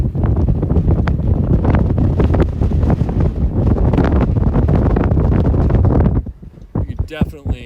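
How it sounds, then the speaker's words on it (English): Strong inflow wind rushing ahead of a tornado-warned storm in Colorado, loud buffeting roar across the microphone for about six seconds before dropping off suddenly, with faint voices at the end. "This is wind racing in."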